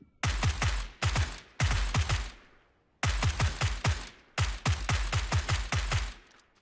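Rapid automatic gunfire from the video game PUBG, loud and close, comes in several sharp bursts separated by short pauses; no speech.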